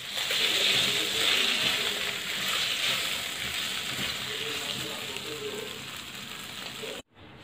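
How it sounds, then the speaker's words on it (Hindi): Beef tikka pieces fry in a karahi with a steady, dense sizzle that stays loud and close, easing slightly before cutting off abruptly near the end, with no voices. "टिक्कों को हमने इतनी देर फ्राई करना है कि थोड़े ब्राउन ब्राउन से हो जाए।"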